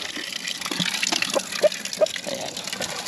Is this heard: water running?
yes